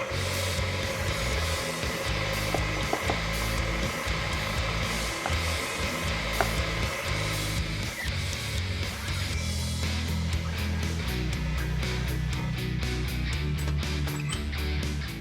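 An electric mixer runs on low speed through keto sandwich thin dough, a steady loud motor whir that holds for the whole stretch, with a faster rhythmic chop creeping into the beater sound toward the end.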